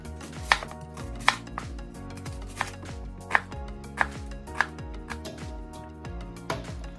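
A knife coarsely chops onion for meatloaf on a cutting board, giving a run of close, crisp, irregular thuds and cuts, some sharper knocks standing out, with no talk.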